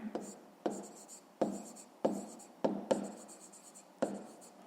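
A pen or pencil writes on paper during a fifth-grade maths exercise, a series of close scratching strokes, each starting with a sharp tap and fading, as a quiet voice speaks over it.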